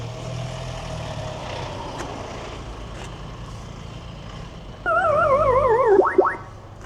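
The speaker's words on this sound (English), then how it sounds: "this is the sound when I lock the car" A Tesla lock chime gives a short series of warbling electronic chirps over a low idling hum, rising in pitch at the end before cutting off.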